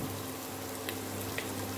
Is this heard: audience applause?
no